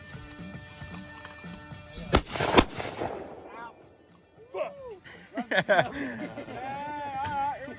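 Rifle shots set off Tannerite targets outdoors, producing a few sharp, loud cracking blasts close together. People talk and call out around the shots.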